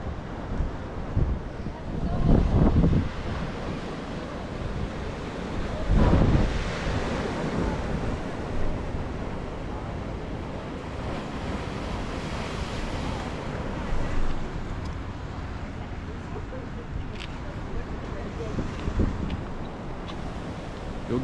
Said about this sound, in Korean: 와, 파도 장난 아니다.